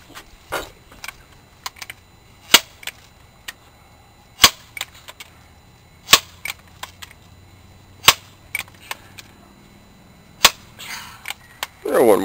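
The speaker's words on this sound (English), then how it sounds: "shoot him again!" A BB gun is pumped and fired at a rat, sharp isolated cracks at irregular intervals with clicking mechanical handling between them; people talk quietly in the background.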